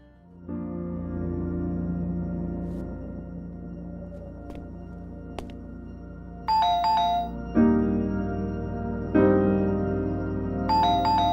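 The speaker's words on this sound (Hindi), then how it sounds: "बॉस का फोन आ रहा है" A phone ringtone plays loudly and steadily for about eleven seconds, a repeating tonal melody with brighter chime bursts near the end, heard alone without talk.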